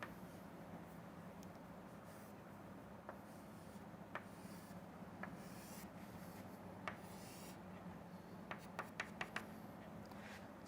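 A pen drawing a diagram by hand gives faint, sparse scratching strokes over a steady low room hum, with a small cluster of quick taps near the end.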